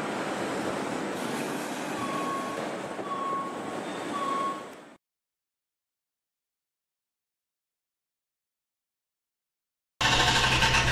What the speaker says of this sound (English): I'm off home now out of this crazy, crazy wind.